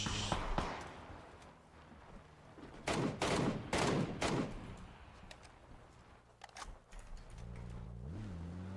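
MK14 rifle gunfire in a solo-squads battle royale video game. A few bursts of loud shots ring out amid quieter game noise, and an engine-like hum rises near the end.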